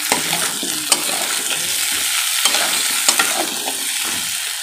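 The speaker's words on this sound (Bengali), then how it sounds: "আলু বেগুন এই যে তরকারিটা কষছি আমি" Potato and eggplant curry being stirred and sautéed in a pan, a loud, steady frying sizzle broken by repeated scraping strokes and a few sharp clinks of the spoon against the pan.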